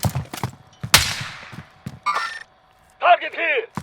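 Video-game gunfire in a Warzone-style shooter: scattered sharp shots and short bursts ring out between moments of quiet, with players' voices chattering over the action.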